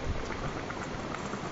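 Food frying in hot oil in a home kitchen, a steady soft crackling sizzle throughout, close and even with no talking.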